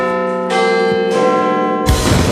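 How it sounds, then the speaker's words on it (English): A bell rings in a few loud, resonant strikes, each leaving a long ringing tone that overlaps the next. "The bell's ringing."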